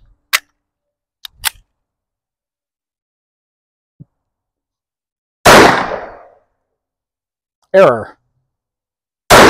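Sharp, loud shots from an M&P 5.7x28 in its rifle setting, with a few isolated reports and echoing decays separated by silence, and a brief spoken word between them.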